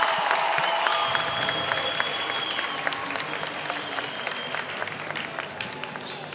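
Arena crowd at a college wrestling dual, West Virginia at Utah Valley, cheering and clapping steadily after a takedown, a dense roar of applause that eases slightly over the span with scattered whistles and shouts.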